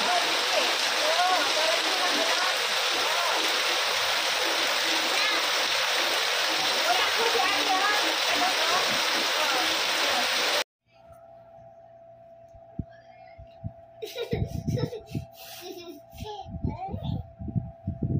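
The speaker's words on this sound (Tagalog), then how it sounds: "Enjoy nyo yung ulan." Heavy rain pours steadily with dense splashing water for the first ten seconds, then cuts to a quieter scene where children's voices and a steady tone sound over light background noise.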